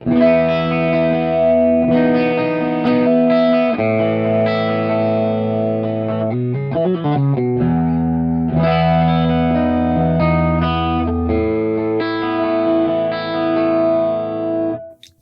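Sustained clean electric guitar chords through a TC Electronic Mimiq doubler pedal sound thick and doubled, with a brief run of quick picked notes in the middle, loud and steady throughout.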